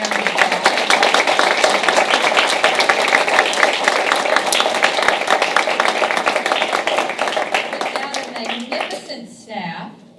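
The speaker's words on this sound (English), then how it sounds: "let's give them a round of applause" A school board meeting audience gives staff a loud, dense round of applause, many hands clapping steadily and close, then tapering off and fading near the end.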